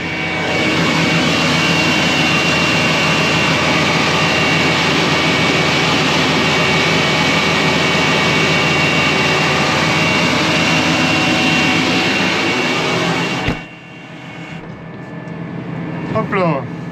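A tractor pulls a 9 m Horsch seed drill while sowing spring peas, a loud, steady engine drone under strain that cuts off abruptly near the end, leaving quieter background sounds.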